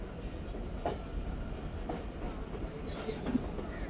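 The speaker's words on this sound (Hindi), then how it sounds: "मीरपुर खास जाने वाली मारवी एक्सप्रेस भी इंटर हो रही है प्लेटफार्म नंबर 3 पर" Marvi Express bound for Mirpur Khas pulling into platform 3 at a station, a steady low rumble of rolling rail wagons with a few faint wheel clicks and distant squeals, no voices.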